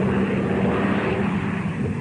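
Propeller airplane flying in a 1941 war drama film, a steady droning engine and airscrew roar, loud and continuous throughout.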